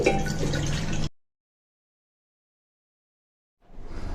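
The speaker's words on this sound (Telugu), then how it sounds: "నాలుగు గ్లాసులు నీళ్లు తీసుకుంటున్నానండి" Water poured into a pot holding a rice-cooker glass of toor dal, a short splashing pour of about a second, then silence, then more liquid sound resuming at the end.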